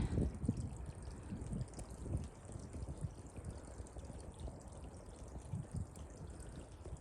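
A small drainage stream trickles through cold winter woods, a faint, steady wash of water with soft low gurgles running continuously, no voices over it.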